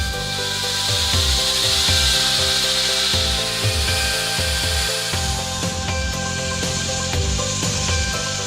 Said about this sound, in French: le travail de découpe des murs périphériques s'est poursuivi au cours du mois